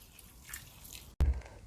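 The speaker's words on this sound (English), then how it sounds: "Now strain the rice with a rice colander and rinse the rice with some cold water to stop the cooking process and get cool." Cooked rice drains in a colander with a faint trickle and patter of water, followed by a sudden brief wet splat and thud close by.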